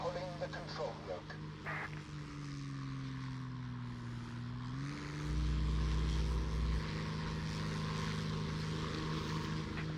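A propeller fighter plane in the video game War Thunder drones steadily and loudly, its engine pitch sliding down and then settling into a deeper roar, with speech heard over it.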